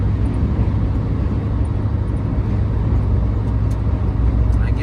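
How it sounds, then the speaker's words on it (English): A blue pickup truck with dual exhaust drives along a highway at high speed, giving a steady, broad road and engine roar without pause. "It's a blue truck, dual exhaust."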